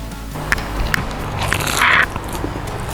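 Someone bites into crunchy battered orange chicken topped with toasted sesame seeds, heard up close as several sharp crunches followed by a longer crackling chew, loud and close with no talk over it.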